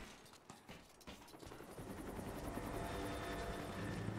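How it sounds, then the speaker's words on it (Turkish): Helicopter in the video game Rise of the Tomb Raider: a few sharp thuds open, then a rhythmic rotor beat swells and holds loud and steady, with no talk. "Helikopter var."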